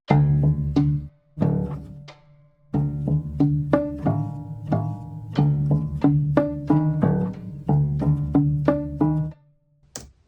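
A prepared upright piano plays a melodic phrase of plucky, bell-like notes with metallic buzzing overtones, pausing briefly partway before continuing.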